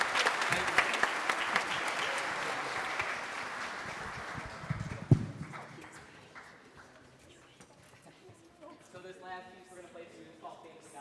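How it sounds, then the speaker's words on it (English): An audience at a school spring concert applauds the performers, loud at first and then fading into scattered claps and faint voices, with musical tones rising near the end. "one more round of applause for these fine people on stage."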